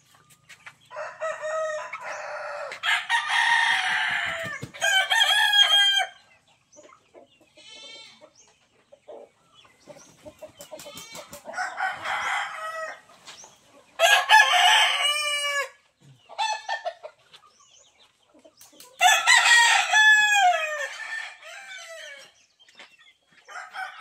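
Three roosters crow repeatedly in loud bursts, interspersed with laying hens clucking nearby; several birds call over one another with brief quiet gaps.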